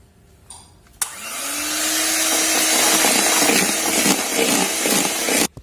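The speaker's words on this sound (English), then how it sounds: "Then we will put milk and then mix it." Milk mixed into homemade cake batter with an electric mixer, a loud steady motor whine that starts abruptly, runs without a break for several seconds, then cuts off, close and alone.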